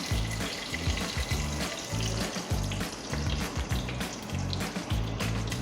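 Curry leaves crackle and sizzle in hot oil in a pot for a dal tadka, a loud continuous frying hiss with a regular pulsing low thrum underneath.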